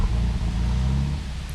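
A car engine in the Project Zomboid video game, on a rainy night in a car with a weak battery, gives a steady low rumble that holds through the whole short moment, close and fairly loud, with no talk over it.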